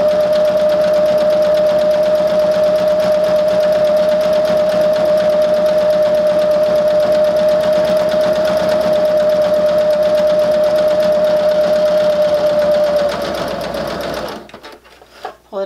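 A sewing machine stitching a fabric wristlet keychain, running loud and steady at close range with a constant whirring hum and rapid needle rhythm, then slowing and stopping near the end.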